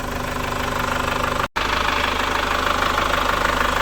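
A 2011 Chevrolet Captiva facelift diesel engine, hard to start, smoking and lacking power, runs with a steady knocking clatter and rises in revs, loud and close, with a brief cut midway.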